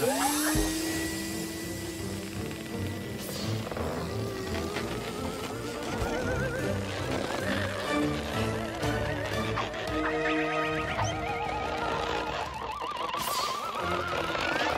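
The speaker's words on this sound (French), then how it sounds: "Il faudrait que tu utilises ton tuyau pour souffler de l'air dans cette valve." A cartoon robot blows air through a hose into a valve: a steady, rising whoosh with a mechanical whine runs throughout, mixed with busy cartoon sound effects and rhythmic clatter.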